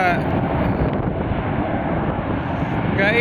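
Airbus A321 jet airliner at Atlanta airport, a steady broadband engine roar with wind buffeting the microphone, loud and continuous throughout.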